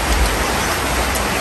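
Heavy rain shower pouring down steadily, a loud dense hiss of drops on surfaces close by, with no voices.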